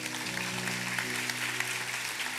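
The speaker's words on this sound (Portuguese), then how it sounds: "Você pode aplaudir ao nosso Deus?" A church congregation applauds in praise during a Sunday service, a steady wash of clapping over sustained low organ or keyboard tones.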